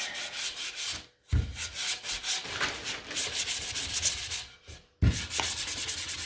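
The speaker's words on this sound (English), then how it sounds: "Now you could do that ahead of time, sand those edges" Sandpaper rubs the edges of a wooden spring sign in close, continuous scratchy strokes, broken by two brief pauses, with no talking.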